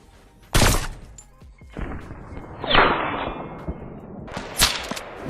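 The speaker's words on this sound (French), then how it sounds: "En même temps c'est une balle de sniper, vous comprendrez que ça va assez vite." Sniper rifle shots in a video game crack loud and sharp, with two main blasts a few seconds apart over a busy game soundscape and a whooshing sweep between them.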